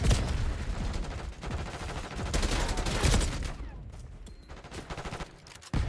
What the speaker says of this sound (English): This gun is very strong, by the way, AK.